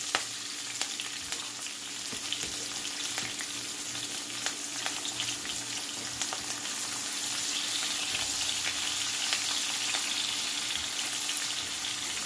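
Green chilli and onion frying in a pan, a steady close sizzle running unbroken throughout with occasional light scrapes of stirring, no voices.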